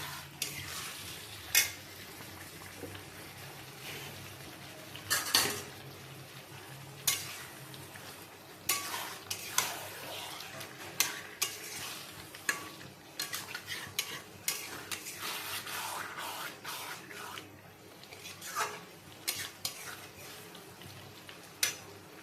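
Spicy meat fries in a pan while a spoon stirs it, scraping and clinking against the pan in irregular bursts over a soft, steady sizzle, fairly quiet and close.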